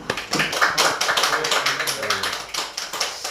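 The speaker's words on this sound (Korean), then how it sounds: "우선 여기 오신 것을 환영하는 의미에서 큰 박수 한번 보내주시면 좋겠습니다" A small group at a speech workshop claps in welcome, distinct close hand claps in a quick uneven patter, with faint voices underneath.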